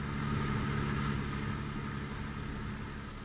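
Car engine humming steadily in busy 1950s traffic, a low even drone with broadband road hiss and no voices, fairly quiet and fading slightly toward the end.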